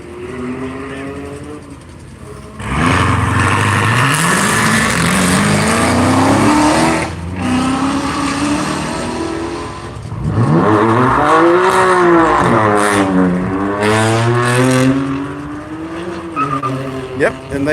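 Race car engines, including GT4 cars, roar and rev hard as cars pull away one after another at Nelson Ledges, loud and close, with rising pitch sweeps and brief tire noise; a voice talks over it.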